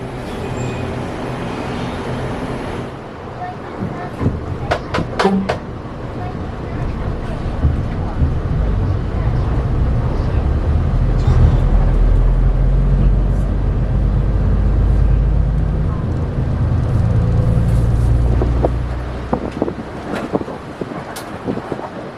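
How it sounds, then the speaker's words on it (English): A battery electric bus is parallel parked nearby in Taiwan, with a low rumbling drone of motor and road noise swelling mid-clip amid wind buffeting and scattered clicks. "There's a bus that's getting parallel parked back there. I think that bus is a battery bus."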